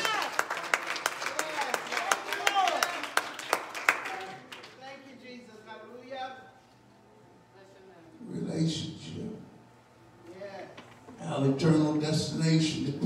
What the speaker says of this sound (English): Clap your hands to the Lord.